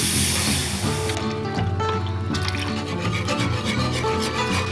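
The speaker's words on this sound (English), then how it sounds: "Now we're gonna put in some beef broth." Beef broth poured into a pan of melted butter and flour for a winter family dinner, a steady bright liquid rush with sizzle, loud and continuous with no talk over it.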